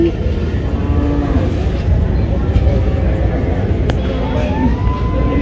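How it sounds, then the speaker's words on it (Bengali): Low, drawn-out cow moos sound over a steady rumble of crowd noise and distant voices at a busy livestock market. "গরুটা চঞ্চল,"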